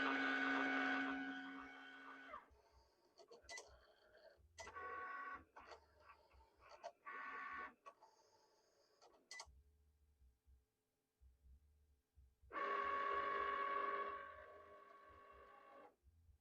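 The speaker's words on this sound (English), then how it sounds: "So now we're going to put this into the Cricut machine." Cricut cutting machine running, an intermittent whirring and buzzing of motor movements in bursts and short stutters with quiet gaps between, close and moderately loud.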